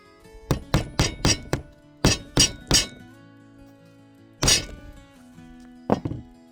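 Hammer blows drive a nail into a wooden door architrave: a quick run of five sharp strikes, then three more, followed by a single heavy whack and a final pair, loud and close in a quiet room.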